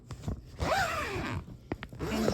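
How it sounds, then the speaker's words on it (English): A zipper bag is unzipped one-handed: a long rising zip rasp, then short tugs and a final pull, close and fairly loud with no talking. "now onto this zipper bag, which I'm going to attempt to open one-handed."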